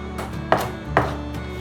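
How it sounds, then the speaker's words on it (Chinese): A knife chops coriander finely on a board, a few crisp cutting strokes in a loose rhythm, close up and without talk. "把香菜切碎"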